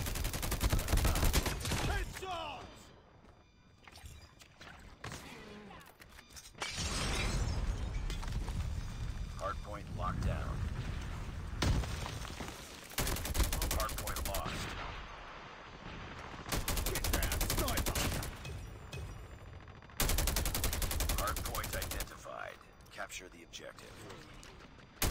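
Bursts of rapid video-game gunfire in a Ghost match, several loud volleys of a few seconds each separated by quieter gaps, with a player talking excitedly between and over the shots.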